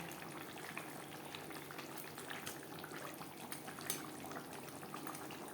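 Silver carp fish curry simmers in its gravy, a soft steady bubbling and popping close by with one brief louder burst near the end.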